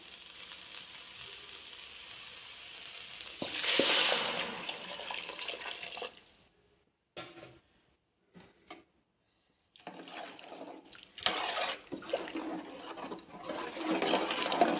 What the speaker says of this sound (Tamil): இதால் ரெண்டு கிண்ணம் தண்ணி சுட வச்சு வச்சுருக்கோம் அப்படியே எடுத்து ஊற்றிக்கலாம்